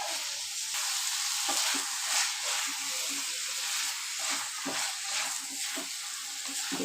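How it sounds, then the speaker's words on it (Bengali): Boiled chickpeas being stirred into a spice masala with chicken in a pan over high flame, giving a steady sizzling, frying hiss with scraping stir strokes throughout, close and moderately loud. "কাবলি ছোলা মশলার সাথে ভালো করে মিক্স করে নিতে হবে।"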